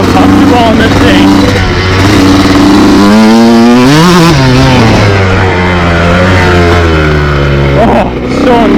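A 2002 Honda CR125 dirt bike engine drones steadily while being ridden, its pitch swelling and sliding with throttle changes, loud and close under a rider's talking.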